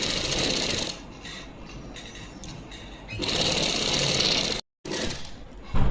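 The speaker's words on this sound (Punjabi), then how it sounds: "ਇਹਨੂੰ ਸਿੱਧਾ ਕਰਕੇ ਇਹਦੇ ਤੇ ਇੱਕ ਸਲਾਈ ਲਗਾਵਾਂਗੇ" A sewing machine runs steadily while stitching net lace onto a chunni, a close, continuous mechanical whir that drops in level partway through, cuts out briefly near the end, then resumes loudly.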